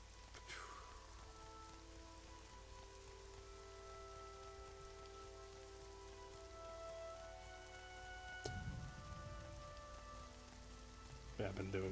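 Steady rain falls in the Morrowind game world, a soft continuous patter and hiss with faint game music tones behind it and a brief thud near the end.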